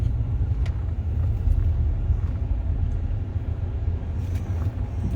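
A big truck rig rolls past on a city street, a loud continuous low rumble heard from inside a car, with no speech.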